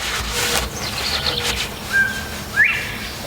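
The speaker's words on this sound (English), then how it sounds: "Bob White, you hear the bird?" Northern bobwhite quail calling from a distance outdoors, two short rising whistles near the end against a quiet rural background with faint rustling.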